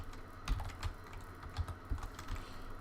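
Typing on a computer keyboard while working in Python: a soft run of quick, uneven key clicks close by, with a few heavier taps standing out, and no voices.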